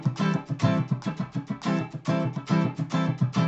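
Guitar strumming in a steady sixteenth-note groove with shifted accents, pulsing evenly over several bars at moderate loudness with no talking.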